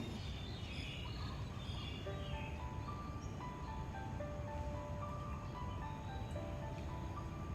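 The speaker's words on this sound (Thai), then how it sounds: "ถ่ายตอนเช้านะคะจะได้ยินเสียงนกร้องด้วย" Birds chirp and sing in scattered high tones over a steady background rumble, fairly faint and distant in the outdoor morning air.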